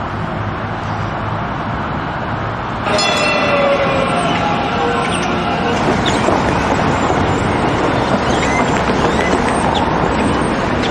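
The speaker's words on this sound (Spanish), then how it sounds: "Tranvía de tres trenes" A three-car tram passes in a US city, a loud steady rumble and rolling rush of wheels on rails with faint metallic squeals, close and continuous throughout.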